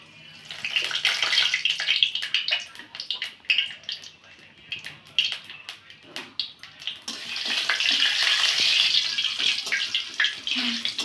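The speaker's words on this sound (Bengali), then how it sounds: "আমার তেলটা গরম হয়ে গেছে এবার আমি কালো জিরাটা ফোড়ন দিয়ে দেবো" Black cumin (nigella) seeds crackle and sizzle in hot oil, a loud hissing burst that settles, then swells into a steady fizzing sizzle.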